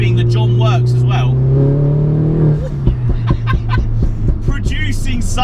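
A 300 bhp Mini John Cooper Works R56 engine drones steadily, then rises and falls in pitch as it revs and shifts, heard from inside the car under continuous talk and a brief chuckle.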